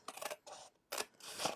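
Scissors cutting paper strips for a hexagonal box, four crisp close snips in quick succession, each a short papery swish, quiet with no talk.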